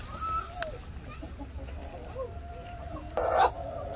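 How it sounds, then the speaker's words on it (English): Chickens inside a chicken house at Great Smoky Mountains National Park give faint, scattered clucks over a low background hum, with one louder squawking burst near the end. "Oh, there are real chickens in here too."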